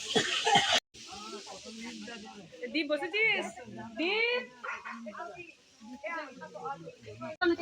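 A dog nearby gives short barks and high, wavering whimpers and yips, interleaved with ongoing conversation.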